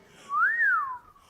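A single clear human whistle during a live performance of songs, sliding upward and then gliding back down, loud and close, with no talk over it.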